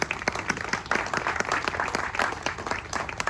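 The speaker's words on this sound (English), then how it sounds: "So a round of applause for them." Outdoor crowd gathered at a building demolition event breaking into applause, crisp individual claps standing out within a lively, fairly close patter that keeps going without talk.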